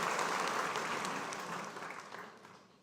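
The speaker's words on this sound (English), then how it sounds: "So round of applause for Ms. Monica Emeline." Dense audience applause at a 2011 high school debate event in Wabag, steady and full from the start, slowly tapering over a few seconds.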